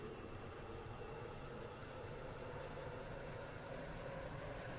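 Train running in Roblox's Stepford County Railway on the Stepford Central to Stepford UFC route: a steady, dense rumble of wheels and motor, constant in level with no break, and no voices.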